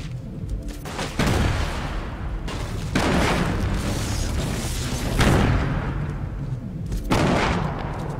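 Heavy gunfire booms in the video game Fortnite, with several loud, sharp reports and rumbling impacts spread across the stretch, including a sniper shot, over continuous background game noise.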